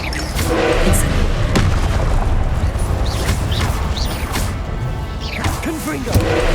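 An Incendio fire spell is cast in Hogwarts Legacy during a battle in Percival Rackham's Trial. It sounds as a loud, dense, continuous roar of booms, crashes and crackling impacts, with voices shouting over the combat.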